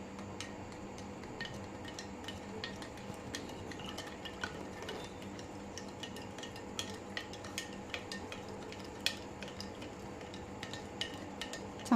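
A spoon stirs lemon sherbet lemonade inside a vessel, making quiet, irregular clinks and ticks against the sides over a soft background hiss. There are no voices.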